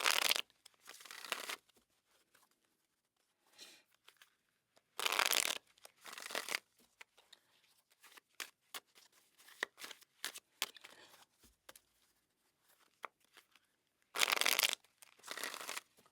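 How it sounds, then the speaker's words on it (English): Tarot card deck being shuffled and cut, in bursts of rapid riffling and flicking separated by quiet pauses and lighter card handling, close and fairly soft. "let's cut the deck here"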